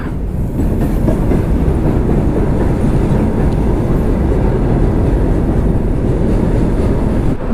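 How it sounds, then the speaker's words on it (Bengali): A goods train rumbles past close by near Malda, India, a steady heavy roar with rhythmic clatter of wagons on the rails throughout. "মালগাড়ি যাচ্ছে।"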